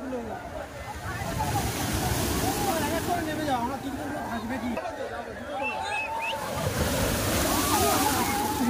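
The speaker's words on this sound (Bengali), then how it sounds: "ওই দেখো আবার ঢেউ এসছে" Sea waves roll onto the sandy beach at Digha with a continuous loud wash and slosh, swelling toward the end, while people talk excitedly throughout.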